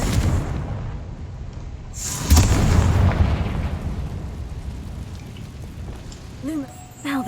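Confringo blasting spell in the Hogwarts Legacy video game: a single loud explosive burst around the midpoint, followed by a rumbling, crackling decay over a dim background ambience.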